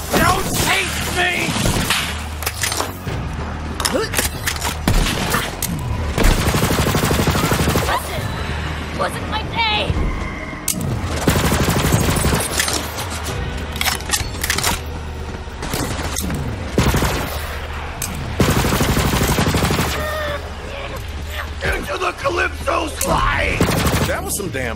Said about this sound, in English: Some damn fine shooting.